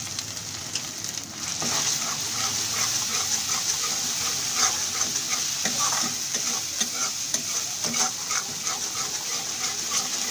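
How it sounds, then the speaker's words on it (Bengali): Masala spices with salt and turmeric frying in a pan for a village-style Bengali fish curry: a quiet opening, then a loud, dense sizzle with steady stirring scrapes running to the end. "মশলাটা ভালোভাবে ভেজে নিতে হবে।"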